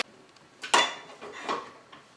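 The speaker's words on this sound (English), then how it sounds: "So back to mixing." Keto chocolate cake batter is stirred in a bowl, giving a few brief scraping and clinking strokes of a utensil against the bowl, close and moderately loud.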